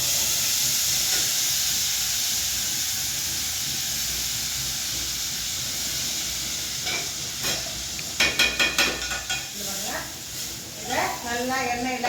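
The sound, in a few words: sautéing chana masala ingredients in oil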